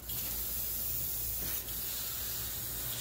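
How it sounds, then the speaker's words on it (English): Continuous hissing spray of fast-drying lacquer paint from an airbrush onto a scale model, close and steady throughout with one short dip, no voices. "Now I'm going to spray that color out."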